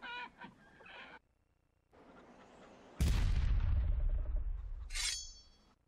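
Chicken clucking in the Blu-ray Disc Java game Liar's Dice: a few close, quick clucks open, a loud crashing burst follows, and a sharp squawk sounds near the end.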